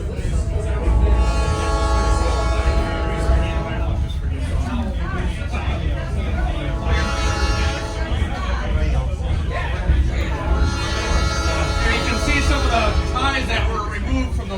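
A train whistle sounds three long, sustained blasts over a rumbling engine at a railway museum's last spike ceremony, with people chattering in the background.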